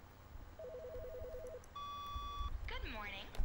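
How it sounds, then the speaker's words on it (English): In the video game The Stanley Parable, a phone rings with a warbling electronic trill, then a steady tone, and a synthesized voice follows. The sound is faint and comes over a low background rumble. "Hey, a phone call."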